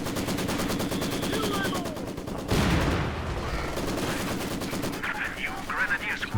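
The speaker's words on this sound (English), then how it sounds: "here comes the other mortar" Battle in the video game Company of Heroes 2, with rapid machine-gun fire rattling continuously, a heavier mortar burst partway through, and more scattered shots and explosions toward the end.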